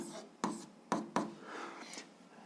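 Pen strokes scratch across paper while a math solution is written out, several quick sharp taps and short scrapes, close and fairly quiet.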